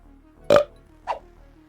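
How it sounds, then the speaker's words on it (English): Two short throaty burps, the first louder and fuller, the second softer and briefer, heard alone over a faint steady background hum. "Good burp."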